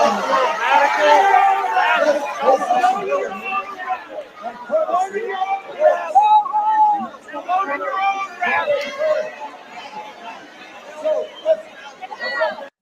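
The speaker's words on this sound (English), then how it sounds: "Such a ravenous crowd." A crowd of anti-war activists chatters in an overlapping babble of many voices, close and steady, with louder individual shouts rising out of the hubbub.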